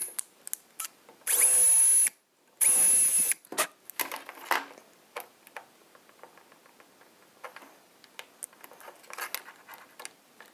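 A 3.5 millimeter drill bores into a Mercedes W201 windshield wiper part in two loud, steady whining bursts, followed by a run of quieter clicks and taps from handling, close up with no talking.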